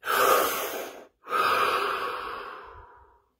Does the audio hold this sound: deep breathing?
yes